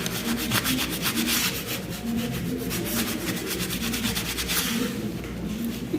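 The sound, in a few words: spatula smoothing paper edges of planner cover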